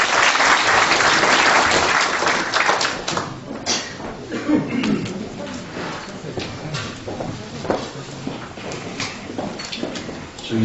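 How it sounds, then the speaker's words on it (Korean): An audience at a Korean political lecture and book celebration event breaks into applause welcoming a speaker, dense clapping that starts strong and gradually thins and fades. "여러분 큰 환영의 박수 부탁드립니다."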